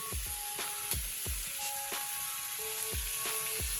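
Katla fish fries in hot oil with a soft, continuous sizzle, punctuated by a series of sharp metallic clinks and scrapes from a utensil in the pan.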